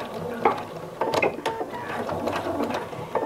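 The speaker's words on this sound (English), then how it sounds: "And stitch back and forth a couple of times." A sewing machine stitches back and forth on a flower appliqué pot holder, with rapid mechanical clatter that comes in short bursts separated by brief pauses and stays close and fairly loud.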